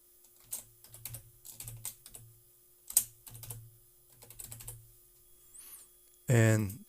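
Someone types a username on a computer keyboard during a WordPress setup. Short, close bursts of key clicks come in clusters with pauses between them, followed by a louder, brief rustle or thump at the end.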